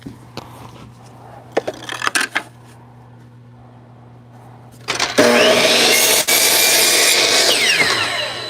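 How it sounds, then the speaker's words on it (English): A miter saw cuts wood for a pencil box, first a few short clicks and handling knocks, then the motor spins up loudly and whines steadily through the cut before winding down. "I'm going to take it over to the miter saw"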